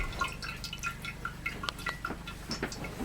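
Kombucha liquid that a SCOBY has been sitting in, about a cup poured into a glass jar, giving a short, steady trickle with small splashes and drips throughout.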